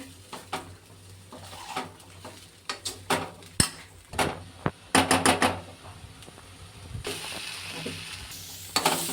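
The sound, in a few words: stirring raw banana thoran with turmeric, chilli powder, coconut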